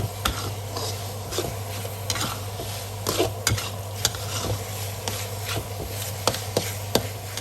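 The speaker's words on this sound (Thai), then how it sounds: "จะผัดไปให้เขาแห้งเลยค่ะ" Red pork filling for steamed buns being stir-fried in a pan, with a steady sizzle under repeated scraping and clinking strokes of a utensil against the pan, close and fairly loud, no talking.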